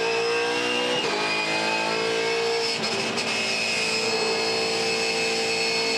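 A 2015 V8 Supercars race car engine at Phillip Island screams at high revs, climbing steadily in 4th gear with brief dips at gear changes. Loud and close, no voices.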